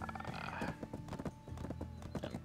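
Horse hooves in the Black Desert video game clip-clop in a brisk, even trot, close and clear, with a faint steady tone running underneath.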